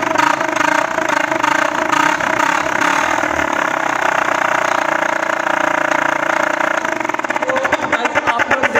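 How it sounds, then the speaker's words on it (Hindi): A motorbike engine with an aftermarket silencer and loud horns fitted runs loud and steady close by, idling with a continuous throbbing drone and a slight rev toward the end, with no talking. "तो चलो गाइस मोटर बाइक को स्टार्ट करके देखते हैं और देखते हैं कि क्या होता है।"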